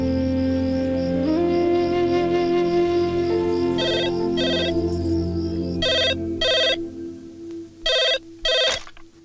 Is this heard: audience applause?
no